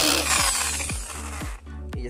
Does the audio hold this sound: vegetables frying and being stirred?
no